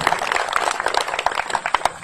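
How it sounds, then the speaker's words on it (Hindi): An audience at a political speech applauding for Modi, with dense, uneven clapping from a crowd that stays loud and steady for the whole stretch. "एक बार मोदी जी के लिए जोरदार ताली हो जाए"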